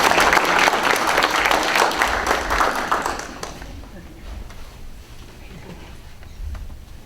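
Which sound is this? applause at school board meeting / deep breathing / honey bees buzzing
applause at school board meeting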